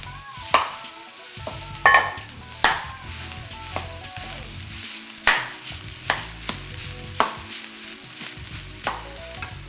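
Potatoes go into a hot pan and are stirred while frying, a utensil clacking and scraping against the metal in irregular strokes over a constant sizzle, close and distinct with no talk.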